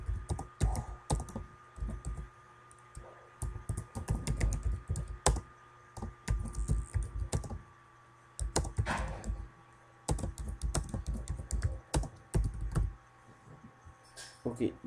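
Computer keyboard keys clack in quick, uneven bursts as text is typed into a PowerPoint text box, fairly quiet and close, with short pauses between runs.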